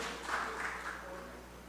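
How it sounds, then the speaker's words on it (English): A short burst of audience applause at a community conversation in a community centre in Tobago, moderately faint and steady, fading slightly. "Give him another lusty round of applause"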